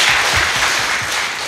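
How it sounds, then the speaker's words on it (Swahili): Steady crowd applause for Dr. Samia at a CCM political rally in Tanzania, broad and sustained clapping filling the space with no speech on top. "Makofi kwa Dr. Samia."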